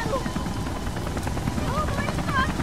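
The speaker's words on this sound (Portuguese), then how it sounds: "Um helicóptero." A helicopter in the video game Beyond: Two Souls gives off a dense, steady rotor roar throughout, with voices talking over it.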